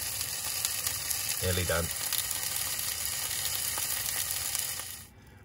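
Co-op sausages frying in a pan give a steady, close sizzle that runs throughout, with a brief spoken remark partway through and the sound cutting off near the end.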